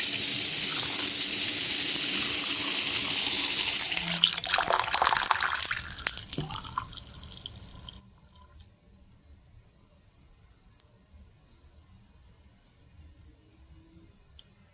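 A kitchen faucet runs in a steady hissing stream for about four seconds, then the flow is cut and splashes taper off into faint drips and near silence.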